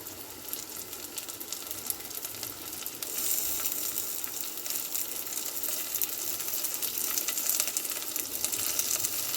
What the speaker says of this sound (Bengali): প্রথমে আমি চর্বিগুলো তেলের মধ্যে দিয়ে দিচ্ছি।